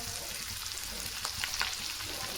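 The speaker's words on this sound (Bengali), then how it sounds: "আর আমরা এখন ক্যাপসিকাম দিলাম, আর ওটাকে আমরা ভাজবো।" Capsicum and potatoes sizzle steadily in a hot pan for chilli potato, a dense, continuous crackling hiss close by, with a few brief louder spatters near the end.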